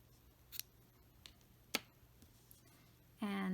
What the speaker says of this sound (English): So I'm gonna cut my yarn